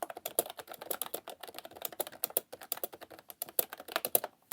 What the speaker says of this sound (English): I'm gonna type a sentence.